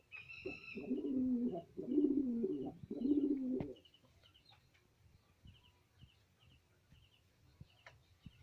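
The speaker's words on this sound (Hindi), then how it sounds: "ये मेरा ब्लैक झांक कबूतर है" A black high flyer pigeon coos in its loft, giving three low, throaty coos in quick succession, followed by quiet rustling and faint background sounds.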